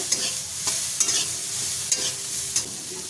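Bitter gourd frying in a covered pan over a low gas flame, giving a steady soft sizzle with a few brief louder stirring scrapes, close and alone without talk.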